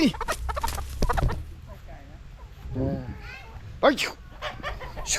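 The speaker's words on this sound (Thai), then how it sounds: "โอ้ไก่เยอะเหลือเกิน เฮ้ยพวกมึงอย่ากินเบ็ดนะเว้ยไอ้พวกไก่" Chickens on a farm beside a fishing pond cluck in short bursts, several birds close by, with someone talking loudly over and between their calls.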